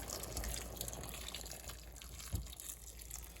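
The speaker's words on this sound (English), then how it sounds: "So you just put water in so that it's just covering the taties" Water trickles and splashes quietly into a cooking pot over potatoes for a Polish pork and cabbage stew, a faint continuous pour with a small bump midway.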